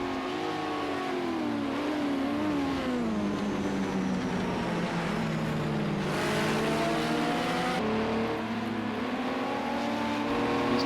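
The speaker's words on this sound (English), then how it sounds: "Oz in the background is trying to make the move on the Capri and can't do it" Race cars, including Ford and Capri models, lap the Sugo circuit in Project Cars 2, their engines droning and revving with rising and falling pitch as several cars run close together.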